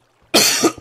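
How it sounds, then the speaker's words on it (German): A single person's sharp, close cough in two quick bursts, the first longer, the second short, with near silence before it. "Sorry, erstmal einen Husten hier."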